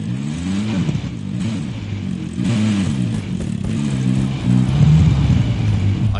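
Car engine pulls away in a PS4 video game, a steady mid-loud rumble with shifting revs and a rise in volume near the end, no talking over it.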